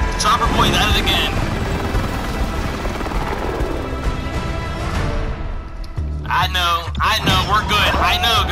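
Helicopter in a multiplayer shooter game flies overhead, a steady loud rotor drone mixed with bursts of gunfire and booms, with voices chatting over it.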